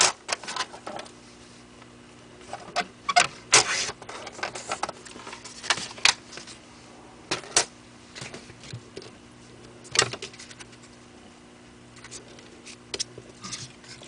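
Card stock is trimmed down to a small square, with short crisp cutting and rustling paper-handling sounds arriving in scattered bursts, close and fairly quiet against a low steady hum.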